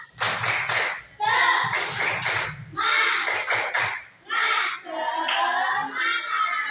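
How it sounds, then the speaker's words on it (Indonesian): Fourth-grade children in a classroom do a rhythmic spirit clap (tepuk semangat), with patterned bursts of claps alternating with chanted voices, loud and close. "Tepuk semangat"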